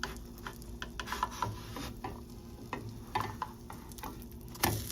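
Protein pancake from a Birch Benders mix frying in a pan as a wide-mouthed spatula slides under it to flip it, a soft steady sizzle broken by scraping clicks and one sharper clatter near the end.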